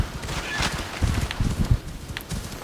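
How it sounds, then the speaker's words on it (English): In Assassin's Creed Odyssey, a horse's hooves thud in a quick irregular galloping rhythm, loud and close, with brief bright clattering accents on top. "I'm just gonna need to hop on my horse."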